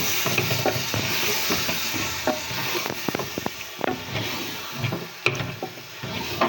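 Lentils and rice roast in a pot for Hyderabadi chicken haleem. A soft sizzle runs under repeated scraping and stirring knocks from a spoon, steady and close with no talking.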